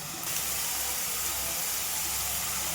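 Onion, green chili, garlic and a little cumin fry in a pan with a steady, dense hiss of sizzling oil, close and continuous.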